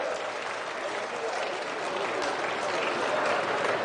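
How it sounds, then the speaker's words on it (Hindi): A large audience at a civic development ceremony in Indore claps to welcome a guest, a sustained wash of dense, even applause from many hands, loud and steady throughout. "मैं आप सबसे आग्रह करता हूं कि जरा ताली बजा के उनका मां अहिल्या की नगरी में स्वागत करें"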